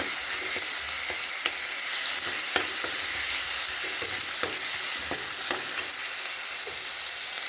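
Garlic paste blended with a green chilli sizzles and fries steadily in a pan, with sharp clicks and scrapes of stirring scattered throughout and no talk.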